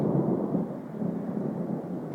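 Thunder from a lightning strike, a deep low rumble rolling steadily at moderate volume with a slightly stronger start, heard alone without voices.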